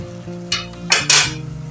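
A spoon knocks against a bowl while chana chaat is mixed, giving three sharp metallic clinks close by over a low background hum.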